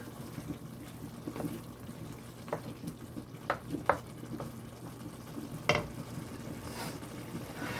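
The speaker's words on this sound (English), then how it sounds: "So I'm just gonna let that cook, the veggies cook." Vegetables cook in a pan for a salt mackerel rundown, giving a faint, steady sizzle broken by a few soft clicks and stirring knocks, with no talking.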